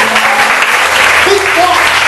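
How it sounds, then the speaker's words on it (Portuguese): Church congregation clapping in praise of the Lord, a steady dense wash of applause filling the short moment with no break. "Dá uma salva de palmas ao Senhor."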